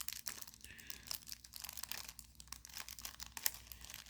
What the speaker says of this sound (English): having trouble with this cellophane pack